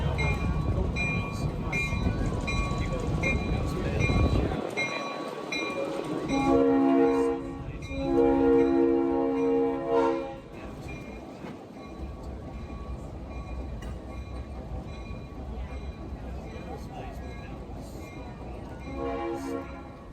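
A heritage excursion train rumbles past an ungated road crossing in Clinton, Michigan, with steady rolling noise, a horn sounding mid-way, then fading into a quieter continuous rumble.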